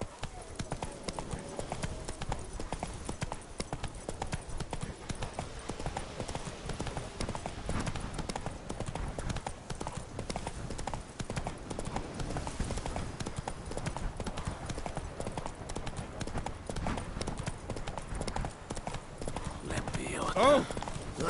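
A horse gallops in The Witcher 3: Blood and Wine on PS5, its rapid clip-clop hoofbeats pounding steadily and close for the whole stretch, with a voice talking over it.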